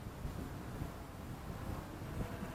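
Wind blowing steadily across an open campground in South Jersey, a continuous low rumbling buffet on the microphone with gentle gusting swells and no other distinct sounds.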